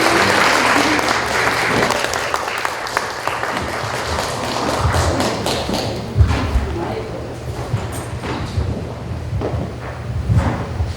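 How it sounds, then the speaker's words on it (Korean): An audience claps warmly after a singer's certificate presentation at a pop song concert in Changdong, Masan. The applause is strong at first, then thins into scattered claps and a few thumps. "다시 한번 뜨거운 박수 부탁드리겠습니다."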